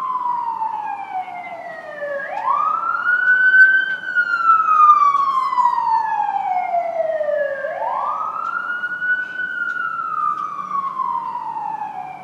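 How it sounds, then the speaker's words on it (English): A loud wailing siren sweeping slowly up and down in long repeated cycles, continuous and fairly close. "That's a siren."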